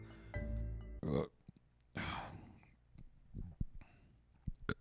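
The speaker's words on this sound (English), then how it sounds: "I'm burping up because I just had my Feel Free." A single loud, low burp rumbles out near the start, followed by a few scattered clicks and quiet shuffling sounds.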